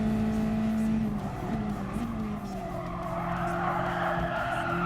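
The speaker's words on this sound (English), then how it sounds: "braking at the end of the fence on the right hand side" A car on a sprint track brakes hard and downshifts to third, its loud engine note shifting pitch as the tires scrub and squeal, heard up close without talk.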